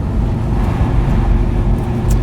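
Interior of a Ssangyong Rodius with its automatic gearbox knocked into manual mode and downshifting, heard as a steady, loud low engine and road drone with no distinct shift event standing out.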